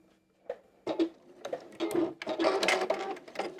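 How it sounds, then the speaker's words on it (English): A sewing machine runs a back stitch on a small stuffed Easter bunny, making a few short rattling bursts, then a steadier mechanical chatter, close by with no talking. "doing a back stitch"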